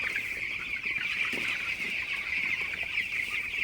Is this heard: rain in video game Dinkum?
no